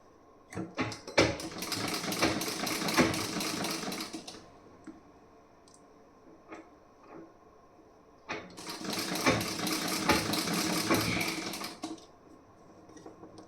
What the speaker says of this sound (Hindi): ये मैं कच्ची सिलाई लगा रही हूँ